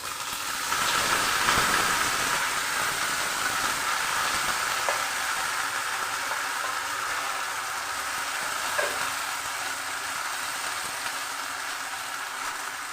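Boiled drumstick greens hit hot oil and fry with a loud, steady sizzling hiss that swells near the start, then settles into a continuous crackle with occasional stirring clinks, heard close with no talking.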